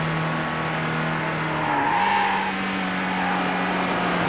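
A race car in the video game Need for Speed Hot Pursuit 2 holds a steady high-revving engine drone, with the pitch dipping and shifting briefly midway, loud and continuous with no talk.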